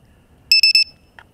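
Battery buzzer on a Walkera QR X350 Pro quadcopter drone sounds three sharp, loud electronic beeps in quick succession, followed by a fainter short chirp, alone in a quiet room.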